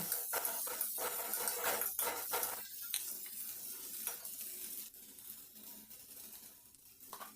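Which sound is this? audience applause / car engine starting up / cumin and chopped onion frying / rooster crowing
cumin and chopped onion frying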